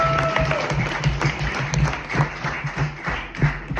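An audience at a live comedy night in a bar and grill claps and applauds steadily, a dense patter of hands with some crowd murmur underneath, moderately close.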